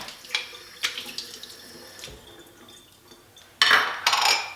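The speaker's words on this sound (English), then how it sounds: "Now I can wash it in the sink." Tap water runs into a kitchen sink as an espresso maker filter is rinsed, with intermittent splashing bursts and a louder gush of flow near the end, close and alone.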